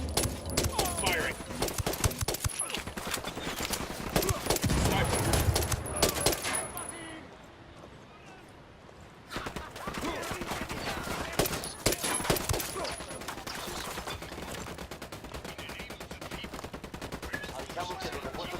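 Gunfire in the tactical shooter Ghost Recon Wildlands: rapid automatic bursts and sharp shots crackle loudly, pause briefly, then resume in volleys, with voices talking over the action.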